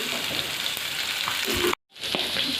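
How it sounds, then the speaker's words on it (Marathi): Crushed garlic and cumin hit hot oil with spluttering mustard seeds, a steady dense sizzle that breaks off briefly near the end and then resumes. "मोहरी छान तडतडली की त्यामध्ये घालायचं आहे आपल्याला लसूण आणि जिरं"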